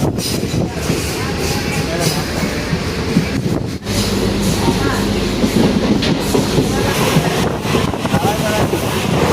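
A train rumbles steadily along the tracks in the Dooars near Sevoke, with constant broadband roar and wind buffeting, close and loud throughout.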